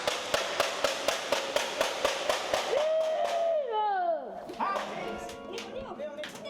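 Piccolo firecrackers go off inside a bat cave as a rapid, evenly spaced string of sharp, loud pops, followed by shrill whistling and scattered clatter with faint voices.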